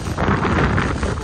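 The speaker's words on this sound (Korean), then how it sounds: "지금 바람이 엄청 불고 있어요" Strong gusting wind buffets a campsite and a shelter, a loud continuous roar with turbulent rustling that stays close and unbroken throughout.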